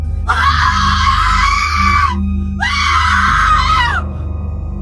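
Girl screaming loudly in terror twice, two long, shrill, sustained shrieks separated by a short gap, close and dominant over a low steady background hum.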